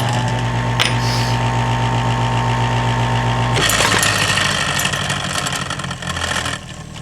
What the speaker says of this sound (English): So I'm going to start the grinder up, kind of grind up the rough edges.